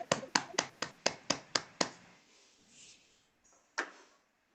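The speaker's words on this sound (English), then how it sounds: "Let's give the poets another round of applause for their opportunity." A handful of people clap for the poets at a hybrid poetry reading: about eight dry, evenly spaced hand claps close to the microphone, then a pause and one last isolated clap.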